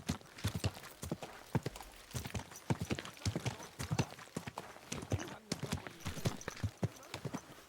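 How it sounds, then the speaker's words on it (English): Horse hooves clip-clop in a steady trotting rhythm in the medieval game Kingdom Come: Deliverance 2, close and continuous for the whole stretch, with no talking. "Easy, good horse."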